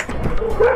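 A dog on a mountain morning outing in Uttarakhand gives a short, close yip or whimper with a brief whiny tonal cry, heard alone against faint outdoor background noise.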